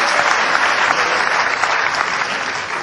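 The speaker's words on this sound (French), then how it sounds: "C'était là qu'il fallait applaudir." Audience applause at a live French comedy show, a dense, even burst of clapping from a full theatre crowd lasting a few seconds and slowly tapering at the end.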